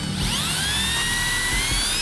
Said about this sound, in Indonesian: yang terakhir kita akan tes mata bor Dormer ya. Ukurannya sama 5 mili juga